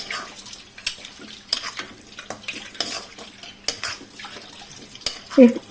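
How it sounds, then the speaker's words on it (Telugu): Okra pieces being stirred and tossed with masala in a pan, a spoon scraping and clinking against the metal in an irregular rhythm, with one louder knock near the end. "ఈ బెండకాయ ముక్కలకి ఆ మసాలా అంతా బాగా పట్టేలాగా మొత్తం అంతా కలుపుకోవాలి మొత్తం బాగా కలిసేలాగా కలుపుకోవాలి"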